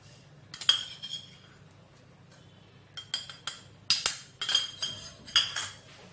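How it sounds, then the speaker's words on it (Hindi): Metal utensils clinking and scraping against a bowl while powdered sugar is mixed into garlic puffed rice for Kolhapuri bhadang, a quiet start then a run of sharp, close clinks and rattles, no talk. "और अच्छे से पहले मिक्स कर लेंगे।"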